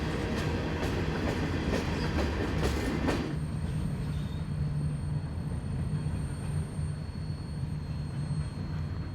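A CSX freight train of 111 hopper cars rolls past on the Kanawha Subdivision in West Virginia: loud, steady rumble and rattle of wagons with sharp wheel clicks early on, continuing alone without talk.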